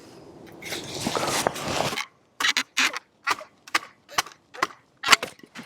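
Kizlyar Supreme Survivalist X full-tang knife chopping into straight-grained wood: a rough scraping flurry, then a series of sharp, distinct wooden chops at a steady rhythm, close and fairly loud.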